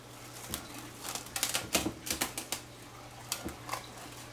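Plastic cling wrap is pulled and stretched over a bowl of pizza dough, giving a close run of crinkly, crackling rustles and sharp snaps that come in uneven bursts, with no talk.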